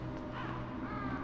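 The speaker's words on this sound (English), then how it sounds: "Hi, birds!" Crows cawing in the Metal Gear Solid video game, a dense flock of harsh calls running continuously throughout at steady, fairly loud volume.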